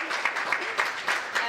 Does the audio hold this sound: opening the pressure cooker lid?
no